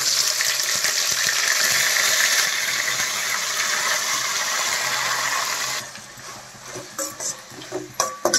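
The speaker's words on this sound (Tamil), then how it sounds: "இப்போ எண்ணெய் காஞ்சிருச்சு, நம்ம வந்துட்டு பட்டை சோம்பு லவங்கம் எல்லாம் சேர்த்து வைக்கலாம்." Cinnamon, fennel seeds and cloves sizzle in hot oil in a pan, a steady loud frying hiss for about six seconds that then drops to quieter crackles and a few clinks.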